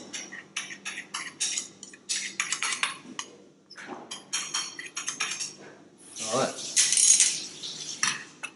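Metal utensils scrape and clink against a dish in quick bursts as chopped vegetables and chickpeas are scooped in, with a soft voice talking in between the clatter.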